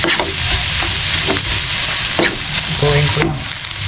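Eggs fry and sizzle in a pan while being stirred, with a close, steady crackle broken by scraping strokes and no talking.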